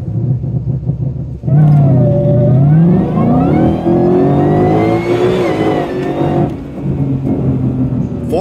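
A supercharged car limited to 35% boost through a custom tuning system accelerates hard on a road, its engine note loud and close, rising and surging for several seconds before easing briefly and pulling again.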